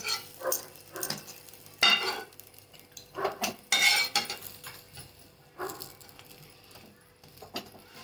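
Paneer pudla being flipped in a pan, with several clattering scrapes and clinks of a spatula against metal spread across the stretch, moderately close, with faint background sizzle and brief bits of voice.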